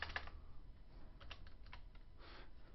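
Quick bursts of typing on a computer keyboard at a desk, with clustered key clicks and short pauses, fairly close and quiet, with no talking.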